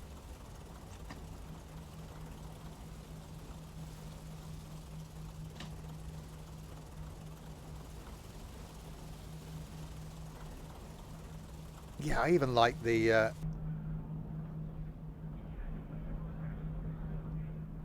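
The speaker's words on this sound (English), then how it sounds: "ambient noise, and certainly the engine noise, and that tick over is so good." A diesel railcar engine idles in the Diesel Railcar Simulator game with a steady, low rumbling tick-over. Someone talks over it throughout, and a brief louder burst of sound cuts in near the end.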